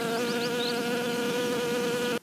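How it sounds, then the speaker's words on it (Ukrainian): Wild bees buzz close by around early spring flowers such as crocus in the Donbas steppe. The drone is loud, continuous and steady throughout, with a few faint chirps high above it. "Цьому, звичайно, зраділи дикі бджоли."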